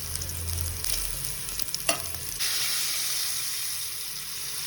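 Tomato added to a hot frying pan for a fish curry with potato, cumin and chilli; steady close sizzling and frying hiss with a few stirring clatters, continuing loudly after a brief sharp sputter.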